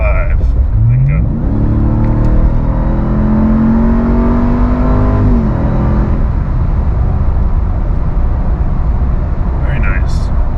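A 2021 Ram TRX pickup with a supercharged Hemi V8, set in sport mode, accelerating hard from about 55, engine note climbing steadily then easing off, loud and close with continuous cabin and road rumble.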